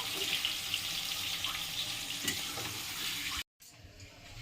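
Capsicum frying in a kadai for restaurant-style paneer chilli, a steady close sizzle with faint stirring that cuts out for a moment near the end and then resumes.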